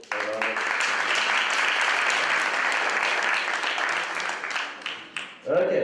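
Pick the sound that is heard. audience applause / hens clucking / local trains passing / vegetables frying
audience applause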